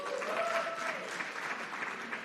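Audience clapping at a live political rally at Norfolk State, a steady dense patter of many hands filling the room, with a few cheers and whoops rising over it throughout.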